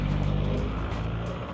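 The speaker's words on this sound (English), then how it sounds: "There's a car coming." A car drives across the frozen ice of a lake in Sweden, a steady low rumble of engine and tyres that stays fairly loud and constant, with faint crackling texture above it.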